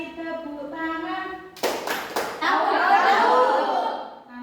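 A classroom of children claps hands during the song Kalau Kau Suka Hati Tepuk Tangan: a few sharp, close claps land between sung and spoken voices, followed by a burst of chatter and laughter.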